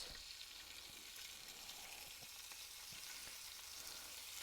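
Thin slices of pork sizzling in a hot pan for a chow mei fun stir-fry, a steady broadband hiss with small pops and crackles scattered throughout, close and unbroken, no voices.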